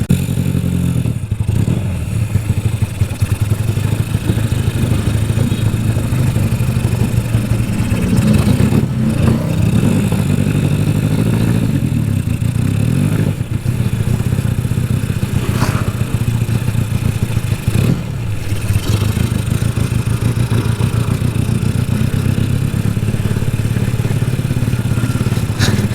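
A Yamaha Vega R motorcycle fitted with a 200cc two-cylinder engine runs continuously and loudly up close, its rough mid-pitched engine note throbbing steadily with occasional revving surges and mechanical clatter.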